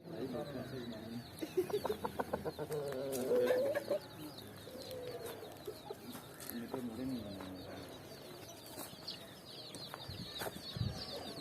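Birds chatter and Aseel chickens cluck in the background while people talk nearby, with scattered short calls throughout.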